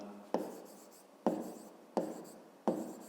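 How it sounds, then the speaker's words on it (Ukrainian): Pen handwriting on paper while working a fifth-grade math exercise, four separate quiet scratchy strokes, each starting with a sharp tap and fading out, close and alone. "Ну і пишемо пояснення."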